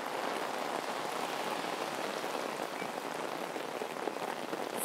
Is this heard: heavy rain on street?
yes